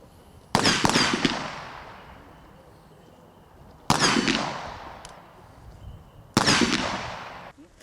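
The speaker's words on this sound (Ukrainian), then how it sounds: "Андрію Аніцую віддали останню шану стрілецьким салютом." Three sharp rifle volleys of a funeral salute crack out at spaced intervals at a cemetery, each ringing off with a long decaying echo across open ground, no voices between them.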